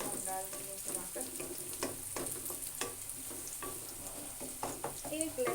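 Tomatoes go into browned onions in a frying pan for a simple tori (ridge gourd) sabzi, bringing a steady close sizzle with repeated stirring scrapes and occasional clinks of the spoon against the pan.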